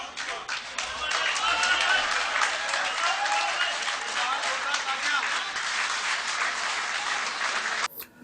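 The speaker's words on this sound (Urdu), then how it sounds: "پورا ہال کھڑا ہو گیا اور سارے ہال والوں نے تالیاں بجائیں" A full hall of listeners gives sustained, energetic applause after a poetry recitation, a thick continuous clapping roar lasting several seconds before cutting off abruptly near the end.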